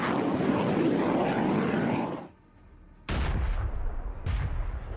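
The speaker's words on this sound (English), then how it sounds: "Himars fires a shot." A HIMARS rocket launcher fires in a combat setting, giving a loud, sustained roaring rush for about two seconds, then a brief lull before another heavy blast of roaring noise.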